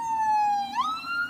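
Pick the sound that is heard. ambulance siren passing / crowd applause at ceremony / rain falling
ambulance siren passing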